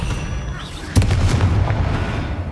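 An Expelliarmus spell goes off in Hogwarts Legacy during a fight with a spider, a sharp booming blast followed by crackling, reverberant magical impact sounds over the game's ambient background.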